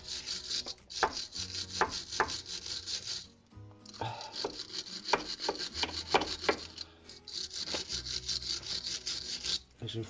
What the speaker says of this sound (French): Je vais essayer de la gratter un peu avec la paille de fer avant.